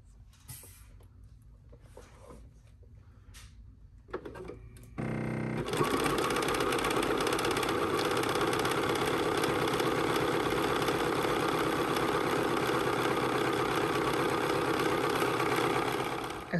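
A sewing machine stay-stitches fabric edges for a dress, starting after a few light clicks and then running as a steady, continuous mechanical hum and whir, close and fairly loud.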